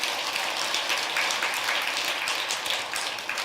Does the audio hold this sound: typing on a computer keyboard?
no